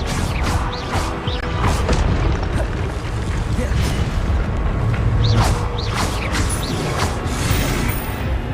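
Expelliarmus spell effects in Hogwarts Legacy, a run of sharp magical bursts and crashing impacts with whooshing flares over game sound, loud and close, with a voice speaking between them.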